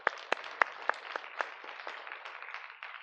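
Applause from a church congregation during a worship service, steady clapping with a few sharper claps standing out early, then settling into a softer continuous patter.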